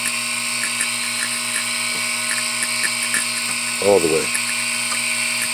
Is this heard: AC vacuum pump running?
yes